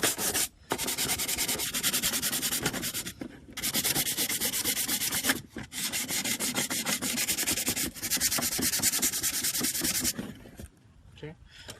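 A 150-grit sheet is rubbed back and forth over a carbon fiber hood vent for a 2015 Mustang. The rasping strokes are close and steady, broken by a few short pauses, with no voices.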